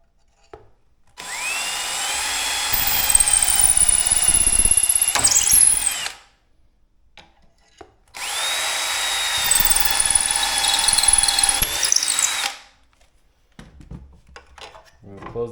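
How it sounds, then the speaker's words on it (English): A power drill whines loudly in two long bursts of about five seconds each, drilling cabinet hardware holes through a jig, separated by a short quiet pause, with faint handling noise between. "Drill your hole."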